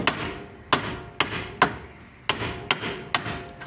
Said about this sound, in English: Almost like they want you to hit it with a hammer.